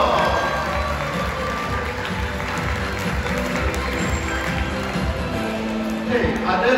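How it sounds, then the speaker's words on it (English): An audience claps and cheers at a dolphin show in the Dubai Dolphinarium, dense applause filling the space steadily from start to finish, with a presenter's voice over the crowd. "Let's give them a big clapping."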